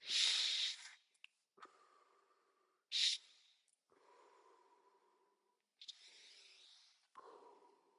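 Several forceful, hissing breaths come in bursts, each followed by softer breathing, close and quiet with pauses between them.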